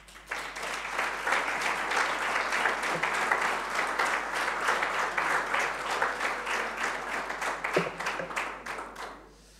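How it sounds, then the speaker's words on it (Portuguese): An audience applauds a journalist during a speech at a Lisbon swearing-in ceremony, sustained clapping from a modest crowd that swells quickly, holds for several seconds, then fades out. "E esta jornalista merece o nosso aplauso."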